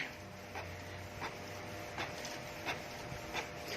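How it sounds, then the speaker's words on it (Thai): A printer without Wi-Fi printing a page sent from a phone, a quiet mechanical hum with regular clacking strokes about every two-thirds of a second as the page feeds through. "เครื่องก็จะสามารถพิมพ์งานได้เลยนะครับผม"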